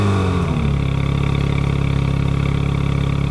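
An Alpine A110 engine in sport mode roars with a loud, sustained mid-pitched growl that rises briefly at the start, then holds a steady throbbing pulse of exhaust and engine close by, without talk.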